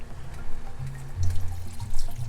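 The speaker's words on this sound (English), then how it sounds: "you can go ahead and add your water. I have 8 cups of water here." Water pours from a container into a pot of Liberian GB soup made with peanut butter, a close, steady splashing and gurgling run lasting a couple of seconds, with no talk.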